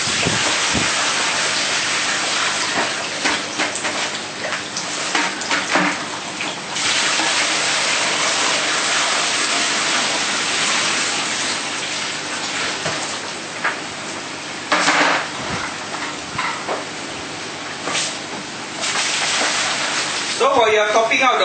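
Water steadily rushing into a battery quick start watering system as it fills, a loud continuous hiss and gurgle with brief dips and surges, without talk over it.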